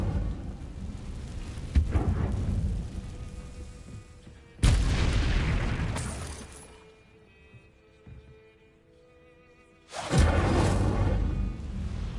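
Incendio fire spell cast in Hogwarts Legacy, loud whooshing bursts of roaring flame erupting three times with quieter gaps between, each burst abrupt and full, no talk.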